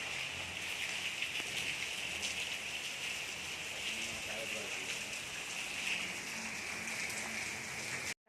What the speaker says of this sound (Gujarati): વરસાદ ચાલુ